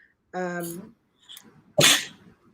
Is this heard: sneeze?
yes